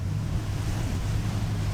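Ocean surf on Fort Lauderdale Beach heard from the shoreline as a steady, full wash of broadband noise with low rumble and some wind, continuous and fairly loud, with no voices.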